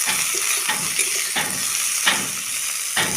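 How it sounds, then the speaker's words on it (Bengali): Turmeric-boiled cauliflower sizzles steadily in hot oil while a utensil stirs the pan, with scraping strokes repeating roughly every second over the constant frying hiss. "সবগুলা ফুলকপি আমি ভেজে নেব,"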